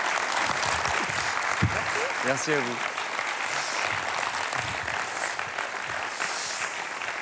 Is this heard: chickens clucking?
no